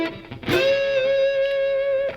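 A distorted electric guitar plays a short blues phrase: a quick picked attack, then one sustained note bent slightly upward, ringing loud and alone until a final pluck.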